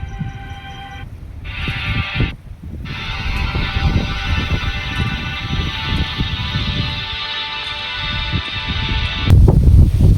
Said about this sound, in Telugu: గాలి అయితే మామూలు లేదు, చాలా అంటే చాలా ఎక్కువ ఉంది గాలి అనమాట